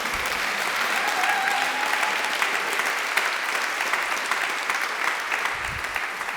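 Sustained applause from a church congregation during a service, a steady dense wash of clapping that holds at an even level throughout without letting up.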